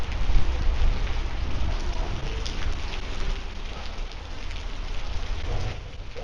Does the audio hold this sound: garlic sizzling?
no